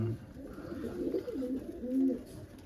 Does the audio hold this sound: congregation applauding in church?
no